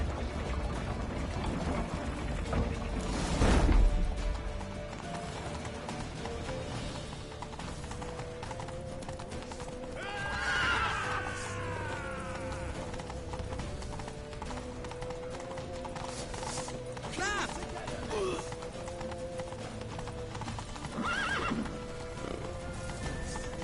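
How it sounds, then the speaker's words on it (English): Horses clip-clop at a gallop over a busy soundscape in The Witcher 3, with a loud neigh early on and more whinnies later, no talking. "Grab a horse to the temple!"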